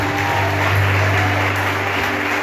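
A church congregation claps during a sermon, steady applause layered over a sustained low organ or keyboard drone, moderately loud and continuous.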